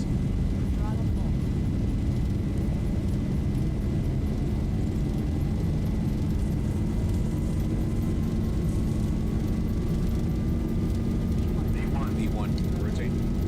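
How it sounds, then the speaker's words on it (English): Boeing 737 jet engines spool at takeoff thrust in the Zibo 737 flight simulator, a loud continuous low roar with a faint rising whine running steadily throughout. "Takeoff thrust set. 80 knots. Throttle full."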